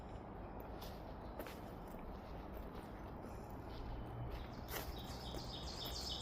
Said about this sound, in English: Can hear some birds singing.